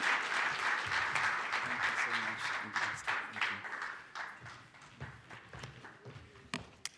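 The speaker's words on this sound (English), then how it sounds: "You can clap hands for the facilitator." A meeting audience at an Africa CDC regional gathering applauds a facilitator, sustained crowd clapping that thins out over several seconds, with voices speaking over it toward the end.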